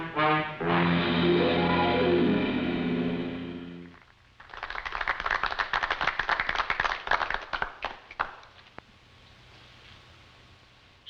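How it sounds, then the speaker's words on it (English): A group of gentlemen applauds in a brisk burst of clapping that follows a sustained musical chord, then dies away into quiet room tone. "I wish I deserved that applause"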